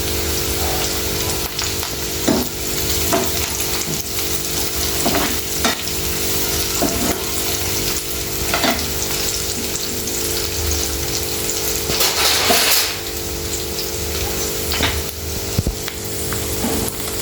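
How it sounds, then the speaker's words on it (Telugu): Coriander and mint leaves fry with onions in a pan for an onion egg curry, a steady loud sizzle with scraping stirs repeating every second or two, no voices. "చూడండి, ఆకులు కూడా ఇట్లా మంచిగా ఫ్రై అయినాయి కదా."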